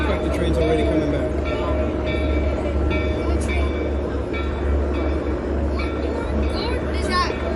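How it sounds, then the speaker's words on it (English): The Calico train at Knott's Berry Farm rumbles by steadily and loudly with wheel and rail noise, while people chatter in the background throughout. "train's already coming back."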